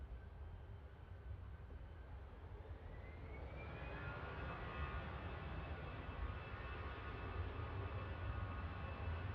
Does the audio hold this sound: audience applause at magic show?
no